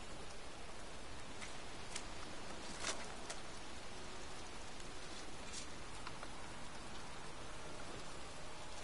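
Steady rain falls in the video game Heavy Rain, an even hiss of drops on surfaces that stays constant and moderately quiet, with a few brief faint ticks and no voices.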